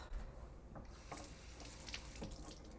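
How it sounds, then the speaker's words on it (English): Hot soapy water running from a tap into a kitchen sink as a cleaning rag is wetted, a soft steady splashing hiss with a few brief sloshes, fairly quiet and without speech. "So I'm going to get my rag damp."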